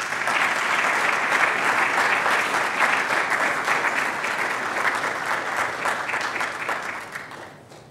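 An audience at a club association event applauds its president, sustained loud clapping from a crowd that holds steady and then fades out near the end.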